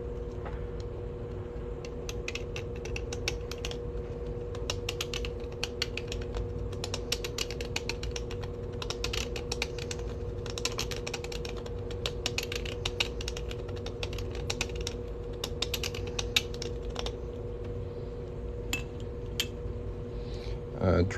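A hand blade cuts away extra silver from the inside of a coin ring, producing faint, irregular scraping and ticking strokes over a steady low background hum, close by and with no talk.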